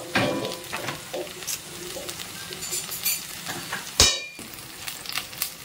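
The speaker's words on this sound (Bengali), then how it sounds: "দিয়ে ভালো করে মশলাটা আমি কষিয়ে নিচ্ছি" Ground turmeric, red chili, coriander and cumin powders frying in a pan, a steady close sizzle with scattered stirring scrapes and one sharp metallic clang partway through.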